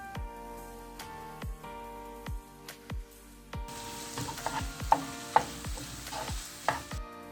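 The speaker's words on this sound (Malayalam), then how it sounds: "നമ്മുടെ ഉള്ളിയൊക്കെ വഴണ്ട് വന്നിട്ടുണ്ട്." Onions with salt sauté in a pan for a Kerala-style mutton curry, a soft steady sizzle broken by regular sharp taps and scrapes of a spoon stirring against the pan, close and alone.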